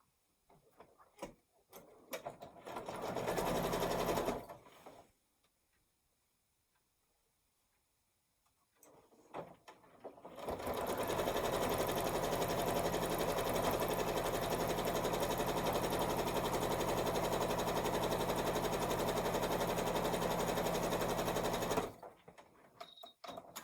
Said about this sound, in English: And I'm just going to sew straight across the top with the same seam allowance